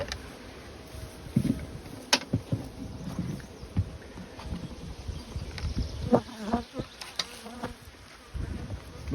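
Honey bees buzzing around an opened hive during a formic acid treatment, with close individual bees droning past in passes over quieter background hum and a few faint clicks and knocks.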